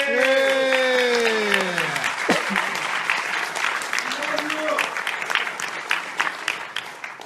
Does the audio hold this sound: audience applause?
yes